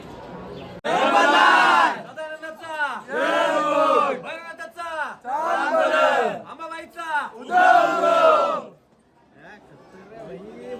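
A large crowd of devotees waits in line at the Khandoba temple in Jejuri, shouting a loud chant together in repeated rhythmic bursts, close and powerful, before fading to quieter murmuring.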